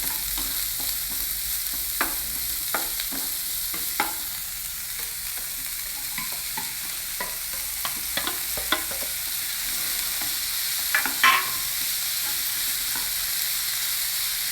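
Onions sautéing in a pan, a soft continuous sizzle broken by frequent short scrapes and taps of a spatula stirring, close and steady throughout.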